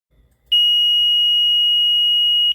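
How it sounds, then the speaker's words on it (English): Countdown timer buzzer on an ESP32-driven LED matrix clock, a single loud, steady high-pitched electronic tone held for about two seconds after a faint murmur. "a buzzer will automatically sound"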